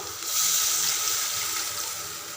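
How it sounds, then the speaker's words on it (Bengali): Water is poured into a pan of Bengali-style shankar fish curry, a close, steady splashing stream lasting a couple of seconds with no one talking. "সামান্য পরিমাণ জল দেবো"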